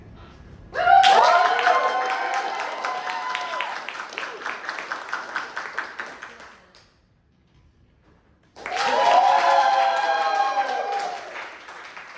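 Audience applause in two bursts separated by a quiet pause, rising sharply and fading each time, with voices shouting over the clapping at a murder-mystery game where the clapping votes for the suspected murderer.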